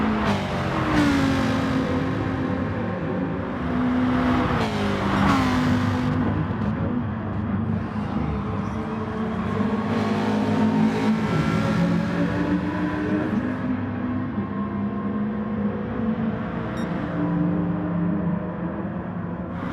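A four-wheel drive Subaru race car in a racing video game, its engine revving and shifting through gears with rising and falling whines, other cars droning around it, steady and loud with no talk.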